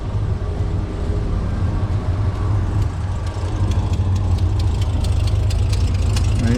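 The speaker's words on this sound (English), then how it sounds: "She's got an exhaust leak right there. Just a little bit blown by the gasket." Car engine idles with a small exhaust leak at a blown gasket, giving a steady low rumble with a faint ticking pulse running through it, close and continuous with no talk.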